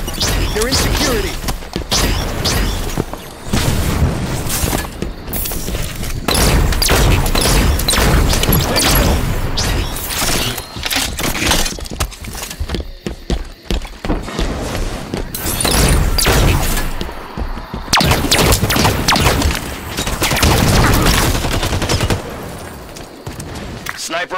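Gunfire from a light rifle and shotgun during a Halo 5 Arena Team Slayer match: dense, loud shots, crashes and thuds run almost continuously throughout, with players talking over the action.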